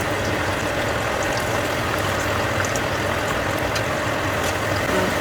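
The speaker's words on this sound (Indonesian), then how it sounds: "Dan kita mulai aja menggoreng kacang kita ya" Peanuts fry with leaves in oil over a medium-low flame for crispy garlic peanuts, giving a dense, even sizzle that holds steady and loud with no talking.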